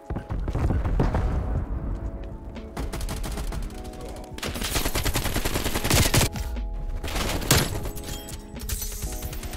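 Repeated AK-47 gunfire in a video game: loud, sharp automatic bursts and rapid volleys filling most of the stretch, with brief pauses between strings of shots.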